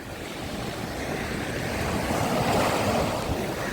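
Steady roar of sea waves breaking against rocks on the Odesa shore, swelling slightly louder, with wind buffeting the microphone.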